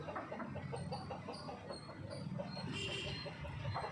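Chickens clucking close by, a flock giving repeated short clucks and low murmuring calls in an irregular rhythm, with a brief louder squawk near the end.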